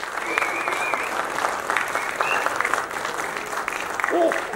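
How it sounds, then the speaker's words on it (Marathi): Loud, dense applause from an audience at a Marathi film teaser launch event, greeting music composers called onto the stage, sustained clapping that fills the whole stretch with faint crowd voices mixed in. "रोहित नागभिडे आणि विजय गव्हंडे, दोघांसाठी जोरदार टाळ्या झाल्या पाहिजेत."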